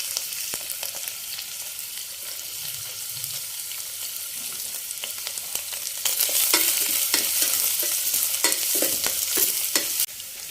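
Garlic and onion stir-fried in a pan for a home-style mushroom dish, a steady loud sizzle with repeated scraping stirs that grow busier and louder midway through, no voices.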